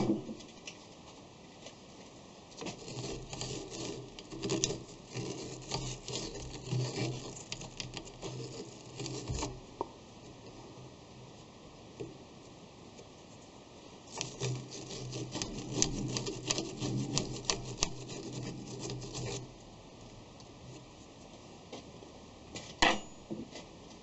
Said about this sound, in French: Coup de brosse.